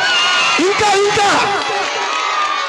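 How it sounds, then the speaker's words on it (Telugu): A church congregation cheers and shouts praise together in a loud, sustained crowd roar, with whoops and raised voices layered over one another; handclaps are not clearly distinct in the mix. "చేతితో చప్పట్లు, నోటితో స్తోత్రం చేద్దామా?"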